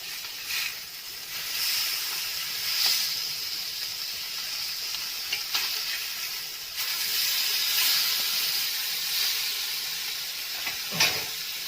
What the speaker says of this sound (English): Drop in 3 fishes and then fry so that it doesn't break.